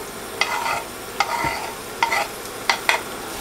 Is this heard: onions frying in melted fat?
yes